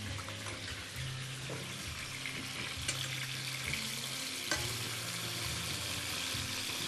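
Peppers frying in a pan with tomatoes, a soft steady sizzle with occasional stirring clicks and scrapes, fairly quiet and close with no talking.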